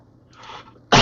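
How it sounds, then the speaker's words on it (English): A single loud, close cough bursts out near the end after a quiet stretch; it is given as mock applause during a podcast conversation. "Frank gives his cough of applause."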